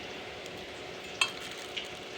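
Cumin seeds fry in a pan alongside dried red chillies, peanuts and garlic for an ivy gourd chutney, making a soft continuous sizzle with two brief utensil clicks partway through, and no voices.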